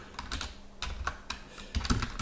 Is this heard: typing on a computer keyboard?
yes